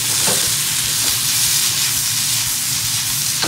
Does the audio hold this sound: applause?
no